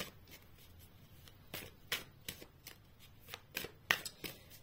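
Oracle cards from the Tao oracle deck being shuffled, a soft papery riffle of repeated flicks and slaps in an irregular rhythm, close and fairly quiet, with no talking.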